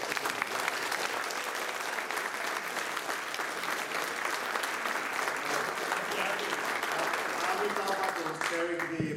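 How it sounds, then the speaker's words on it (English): An audience at an academic conference gives a dense, sustained round of applause that fills the room for several seconds and then tapers off at the end. "I think a round of applause for the local"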